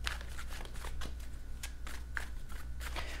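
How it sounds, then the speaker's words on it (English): Tarot cards riffled and shuffled by hand in a quiet room, a series of soft papery bursts and flutters at an uneven rhythm, close and fairly faint. "let's give these a few more shuffles"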